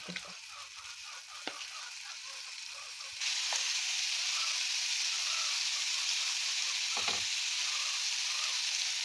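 Vegetable pieces for a paneer roll hit hot butter on a griddle, starting with a light crackle that jumps to a loud, steady, close sizzle for the rest of the time, with occasional faint taps.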